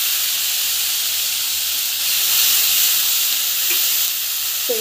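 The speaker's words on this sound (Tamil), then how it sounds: "நல்லா நல்லா வதக்கிட்டுக்கோங்க" Onions sauté in a pan with a steady, close hiss and sizzle that swells slightly midway, with a faint stir near the end and no voices.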